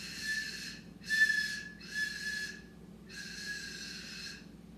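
A toy whistle from a prize box blown hard gives four shrill, steady blasts, the first three in quick succession and the last held longer, loud and close with faint breath noise underneath.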